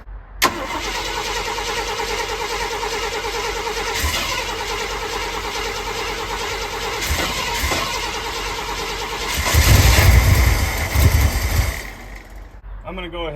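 A rough-running car engine with no throttle response cranks and catches, idles unevenly for several seconds, surges louder briefly when the throttle is touched, then falters and dies.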